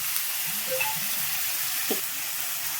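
Chopped onions fry in a pan with salt for a chicken curry, a steady soft sizzle with faint scraping stirs and a small knock, close and continuous with no voices.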